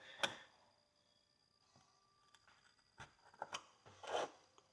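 A tool scrapes and picks packed dirt from a small front horseshoe for a pony, in scattered brief rasping scratches, quiet and close.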